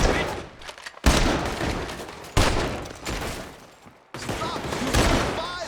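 Repeated volleys of gunfire from guards in Red Dead Redemption 2, dense overlapping shots in several loud sustained stretches broken by short gaps, with voices shouting amid the shooting.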